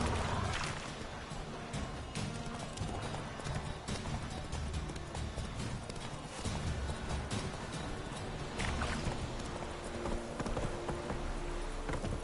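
Hooves of Roach, a horse in The Witcher 3: Wild Hunt, clip-clop steadily and close up through a dense game soundscape, with the rhythm running the whole time and no talk over it.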